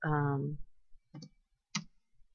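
Computer keyboard typing: a brief voice comes first, then two sharp, separate key clicks in a quiet room.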